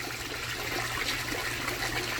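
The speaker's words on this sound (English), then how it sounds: "Got the fountain going." A garden fountain runs steadily, its continuous splash and trickle of water close by and alone, with no voices over it.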